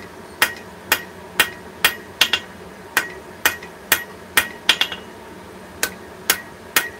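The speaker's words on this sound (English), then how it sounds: "Just make sure to be accurate with your hammer blows." Sharp hammer blows ring out while forging a steel chess piece, about fourteen close metallic strikes in an uneven rhythm, some in quick pairs, with no talk over them.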